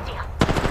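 Apex Legends match gunfire: a sudden loud burst of automatic shots after a quiet stretch, followed by a few rapid trailing shots over game ambience.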